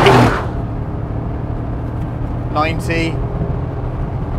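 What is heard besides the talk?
Mercedes G63 AMG engine accelerating hard while towing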